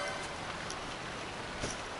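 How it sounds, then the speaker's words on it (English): Steady heavy rain in the Final Fantasy 12 game world, a dense even hiss of drops with no pauses, moderately loud and without any voice over it. "it's definitely raining."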